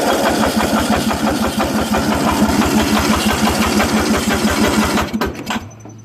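A Craftsman 13.5 HP riding lawn mower engine runs on full choke with a fast, steady chugging pulse, loud and close, then sputters and dies out near the end.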